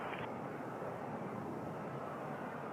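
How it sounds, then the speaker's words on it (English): Lufthansa Boeing 787-9 airliner at Toronto airport, a steady broadband jet roar held at constant loudness throughout, moderately distant with no voices. "787-9 headed to Heathrow."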